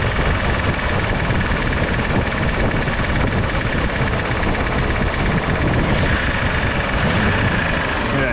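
A 1986 Jeep CJ7 engine idles high with an exhaust leak, a steady continuous rumble that runs loud and close throughout.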